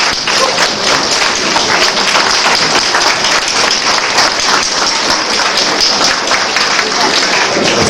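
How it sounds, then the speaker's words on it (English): An audience at a 2012 concert claps loudly and steadily from start to finish, a dense, close wash of applause. "Give yourselves a big clap."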